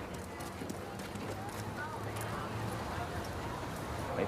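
Hooves of a well-trained horse clip-clop under a young first-time rider at a riding competition, a steady, fairly faint rhythm behind ongoing talk and arena murmur.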